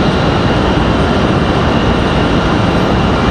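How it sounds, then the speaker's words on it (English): An American Eagle airliner taxiing out to the runway at Raleigh Durham International, heard as a loud, steady broadband engine roar and rush without change. "So it looks like one of our American Eagles making their way out to the runway"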